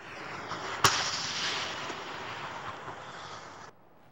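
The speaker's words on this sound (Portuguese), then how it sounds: "nós vamos ouvir os tiros aqui" Gunfire recorded at an ambush site on highway 280, heard as one sharp near crack followed by a dense rumbling, crackling burst that runs for about three seconds and then cuts off.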